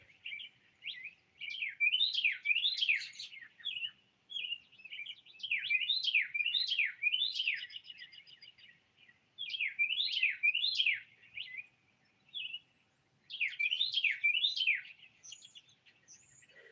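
A songbird sings loudly from a tree nearby, repeating bursts of rapid rising-and-falling whistled phrases separated by short pauses, with no voices over it.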